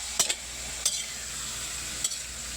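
Meat being stir-fried for pancit guisado sizzles steadily in a pan, with three brief scraping stirs of a utensil near the start, the middle and the end.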